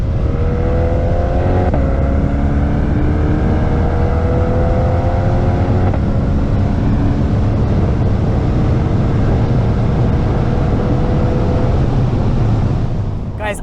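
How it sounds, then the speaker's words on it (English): A 2020 Chevrolet C8 Corvette pulls hard along a winding Southern California road, its engine droning loud and continuous with rising and falling gear pitches and strong road and wind noise throughout. "this C8 Corvette is going through it. It's carving it up."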